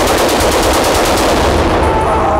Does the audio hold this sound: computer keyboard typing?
no